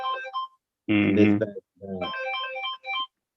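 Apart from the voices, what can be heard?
mobile phone ringtone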